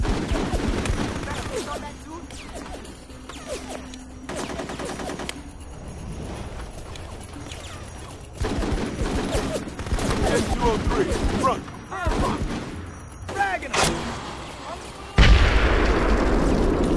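Squad rifle fire from Full Spectrum Warrior, bursts of automatic gunfire and scattered shots crackling through a battle with booming impacts, mixed with shouted radio-style voices talking over the fighting.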